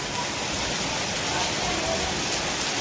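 Heavy monsoon rain pours down over a village as a dense, uniform hiss of steady noise, constant and fairly soft, with no breaks or separate drops standing out.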